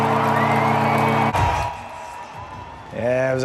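Hockey crowd at the Lenovo Center during a Carolina Hurricanes Hockey for the Holidays game gives off a broad, rushing roar in the middle, framed by a nearby voice speaking before and after.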